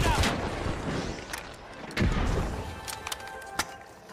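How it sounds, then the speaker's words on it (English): A frag grenade explodes in the video game The Finals, with heavy booming thumps and sharp gunfire-like cracks amid ongoing combat noise, while a voice talks underneath. "Frag grenade out."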